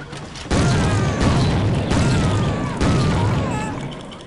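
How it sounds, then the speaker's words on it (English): Shotgun blasts fire in the Soldier of Fortune video game, three sharp booming reports spaced about a second apart, each with a ringing decay over steady background game noise. "Gotta love me shotguns."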